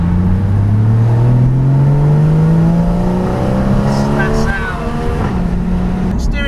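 A Porsche Cayman 981 base model with a manual clutch fires up and revs, its engine note climbing steadily then settling into a loud, close idle with further blips, while people talk over it.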